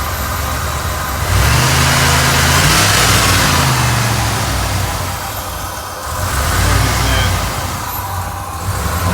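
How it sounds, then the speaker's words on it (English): A Ford F150 safari truck engine is revved up from idle, swelling into a loud sustained roar, easing back, then rising again close by. "See if I can get it to purge, just rev it up a little bit."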